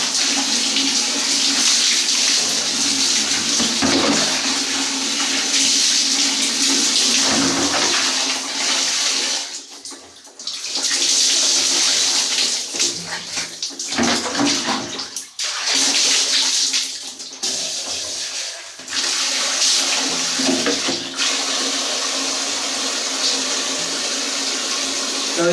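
Water runs steadily from a tap while someone rinses off during a bath, splashing and gushing with brief dips and pauses, close and continuous throughout.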